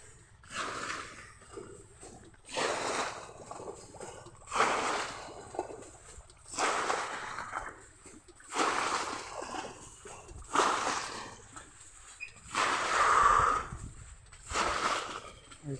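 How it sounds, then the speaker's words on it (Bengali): Water is sloshed from a bucket onto a field from a canal, in repeated splashing bursts about every two seconds, fairly close and loud, with no talk. "বাবাই দিচ্ছে বালতি করে"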